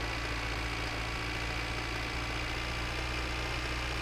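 A tractor engine idles in My Winter Car with a low, steady mechanical hum and faint knocking that holds constant and fairly quiet throughout, with no talking.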